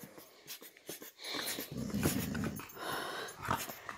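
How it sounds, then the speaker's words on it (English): A dog growls and snorts in rough, breathy bursts over about four seconds, close and fairly loud, with no talking. "You dare growl at your big sister?"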